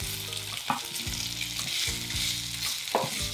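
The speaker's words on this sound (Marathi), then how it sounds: "हा ठेचा छान परतून झाला की यामध्ये उकडलेल्या बटाट्याच्या फोडी घालायच्या" Boiled potato pieces sautéing in a pan with chilli thecha, a steady sizzle with rhythmic spatula scrapes and stirring strokes repeating about every half second, close and fairly loud, no voices.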